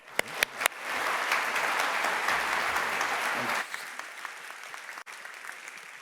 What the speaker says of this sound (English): A big round of applause for Andrew Liebhold.